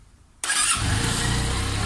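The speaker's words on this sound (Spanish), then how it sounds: "Vamos a comenzar dándole arranque a la moto." A Benelli 302R fuel-injected motorcycle engine cranks and fires after a quiet moment, then settles into a loud, steady close-up idle.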